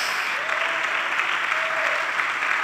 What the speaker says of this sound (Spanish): Démosle una ofrenda de aplauso a nuestro Dios.